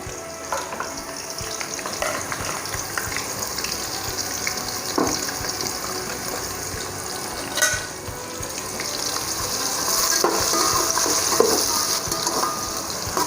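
Chopped onions fry and sizzle steadily in a pan for Telugu-style pulao, with intermittent scraping and stirring strokes over a continuous close hiss that swells slightly toward the end.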